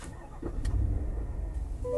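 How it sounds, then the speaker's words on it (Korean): A Chevrolet Tahoe with a 6.2-litre naturally aspirated V8 cranks and fires up, then settles into a quiet, low, steady idle, heard from inside the vehicle. "네 이제 쉐보레 타오 주행을 해보겠습니다 시동을 걸면"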